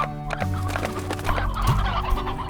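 Hens cluck and gobble continuously in the Slime Rancher video game, a close, busy flock of fowl calls with no speech.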